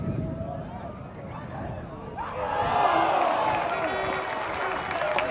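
A football crowd of Auckland City supporters at a 2010 match against Waitakere rises into a broad cheer midway through, loud and swelling beneath a commentator's voice.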